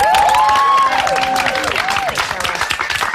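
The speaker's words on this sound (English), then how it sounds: "Big round of applause for Ricky." Studio audience at a televised talent-show results night applauds and cheers loudly, dense clapping with whoops, while sustained vocal tones ring over the top and the crowd noise stays full throughout.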